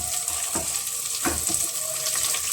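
Beans and carrots frying in a pan for vegetable pulao, a steady close sizzle with a few louder stirring bursts and no talk.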